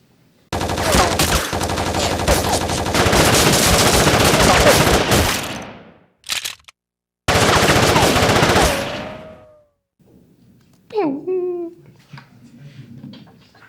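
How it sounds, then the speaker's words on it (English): A film sound effect of machine gun bullets striking trees: long, dense bursts of rapid automatic fire with impacts, loud and close, cutting off abruptly, then a brief pause before another burst and a few fainter scattered hits. "like to change the environment the bullets are getting hit at. I don't know. Like for example, these instead of rocks now it's trees."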